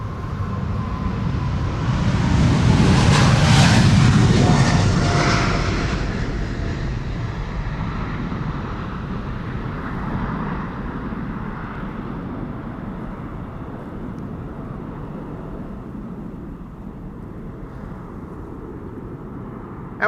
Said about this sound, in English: Next airplane is KLM flight 755 going to Quito, and that is in Ecuador. 777-200 PHBQD Bravo Quebec Delta.